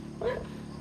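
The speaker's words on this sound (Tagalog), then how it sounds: "yung aso nakatahol pa" A single short dog bark rings out, somewhat distant, over a steady low background hum.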